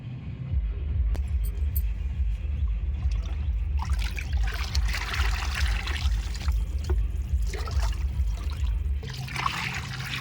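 Buttermilk mixed with water from a 20-litre bucket is poured onto terrace-garden vegetable plants such as brinjal. It makes a continuous close trickle and splash that shifts in tone as the stream moves.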